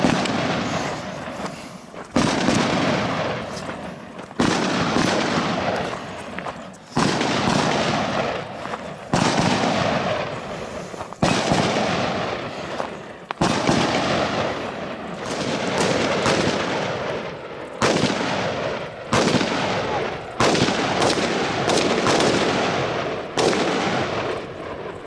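Target shooters fire guns out in the open desert, producing repeated loud, sharp cracking shots in irregular bursts and volleys with echoing tails, heard from fairly close over a steady windy background.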